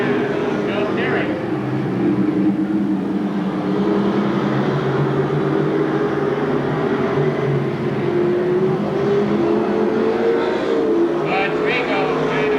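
Stock cars race at Seekonk Speedway during a 1993 weekly racing night, a loud continuous engine roar filling the air while an announcer calls the action.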